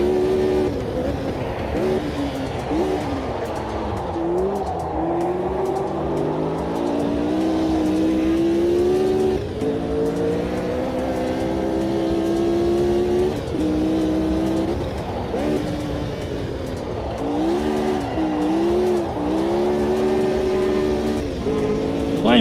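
Historic open-wheel race car engine in the Automobilista 2 sim racing game, revving continuously and loud as the throttle is worked through a corner, with rising and falling pitch and wheelspin in third gear.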